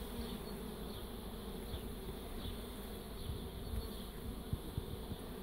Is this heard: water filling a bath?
no